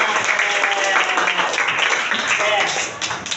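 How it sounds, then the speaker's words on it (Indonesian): Students in a classroom applaud a classmate's question with a dense, steady burst of clapping that fills the room, fading slightly toward the end, with voices mixed into the noise. "Beri tepuk tangan dulu dong untuk pertanyaannya."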